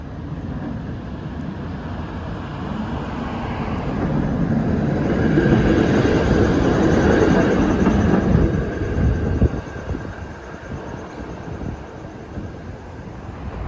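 A historic PCC streetcar on San Francisco's Muni F Line rumbles closer on steel tracks, its low grinding roar swelling to a peak then easing, with wind buffeting the microphone and no talking.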